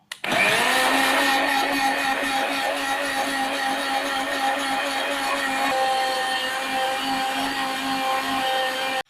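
An electric hand mixer whirs steadily and loudly for several seconds, beating cake batter with milk just poured in, its motor whine holding an even pitch with slight wobbles as the beaters move through the mixture.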